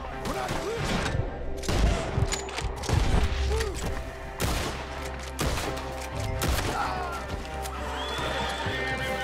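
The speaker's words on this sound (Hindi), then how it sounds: "भाई कितने जल्दी जल्दी गोलियां चला रहे" Rapid bursts of Red Dead Redemption 2 gunfire crackle amid a busy mix of horse whinnies and hoofbeats, all loud and dense throughout.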